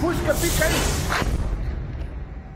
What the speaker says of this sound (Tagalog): Naganap ang malaking pagsabog na yan sa port ng Odessa region sa Ukraine matapos ang 2 oras na drone strike ng Russia